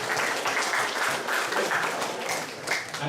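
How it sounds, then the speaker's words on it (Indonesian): Applause from a group of young people gathered for an esports athlete selection, a fairly faint, steady patter of clapping lasting about three seconds with no one speaking over it. "Tepuk tangan dulu semua di sini."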